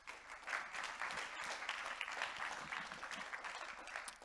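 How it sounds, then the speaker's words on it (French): An audience at an awards ceremony applauds steadily, a dense and fairly distant patter of clapping with no voices over it. "Monsieur Philippe Hénaud, qu'on peut applaudir."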